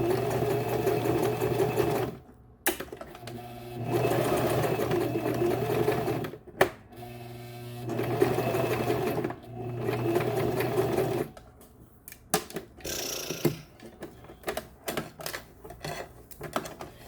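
A sewing machine stitches hair onto a wig, its rapid, steady mechanical whir running in long bursts broken by short pauses and a few clicks as the work is adjusted.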